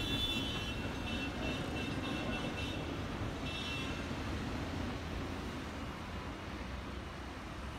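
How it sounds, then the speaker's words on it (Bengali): A tram rolls slowly down off the Kalighat bridge, a low, steady rumble with a faint metallic whine early on that gradually eases, heard alone without voices. "ওই ওই এতক্ষণে কালীঘাটের পুল থেকে আস্তে আস্তে নামতে দেখা যাচ্ছে শ্রীযুক্ত ট্রামকে।"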